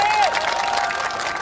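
An audience claps and cheers at an outdoor political speech in Gangnam, a dense, steady wash of applause with crowd voices and a speaker's amplified voice over it.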